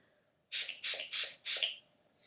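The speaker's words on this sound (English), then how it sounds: "I'm just going to take a little bit of my Wet n Wild spray again" Wet n Wild makeup setting spray is misted onto a face in four quick, close pumps, each a short airy hiss with brief gaps between them, in an otherwise quiet room.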